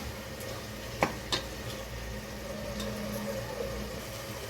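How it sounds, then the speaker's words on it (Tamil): Chopped medium tomatoes sizzle in a pan of chicken biryani masala, a steady soft frying hiss with a couple of sharp clicks of a spoon against the pan, no talking. "ஸோ இந்த ஸ்டேஜில் நம்ம தக்காளியை சேர்த்துக்கலாம்"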